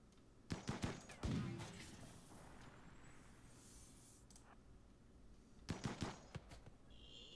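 Gunfire in the colony-building game RimWorld: a brief cluster of sharp shots near the start, then a quiet stretch, then another tight group of cracks late on, against a faint ambient background.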